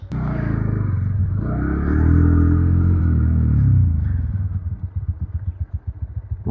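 A motorcycle is ridden up to a parking spot on muddy ground by the Mauli temple in Kankumbi. The engine revs loud and close, swells, then eases into a rapid, rhythmic putter as it slows and idles.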